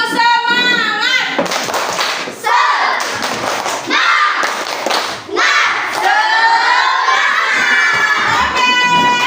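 A primary-school class of children doing a spirited group clap routine, loud shouting voices in rhythmic bursts with claps and thumps, close and crowded, with pauses between phrases.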